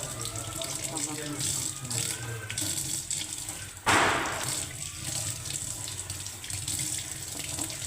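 Tap water runs steadily into a kitchen sink as mutton pieces are washed, a continuous hiss and splash with a brief louder gush midway, while someone talks over it.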